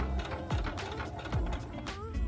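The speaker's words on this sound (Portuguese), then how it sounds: "Volta a baixar o calcador e segue com a costura." A sewing machine stitches a zipper pouch with a quick, rhythmic mechanical chatter and light whirring. It runs close and steady with no talking.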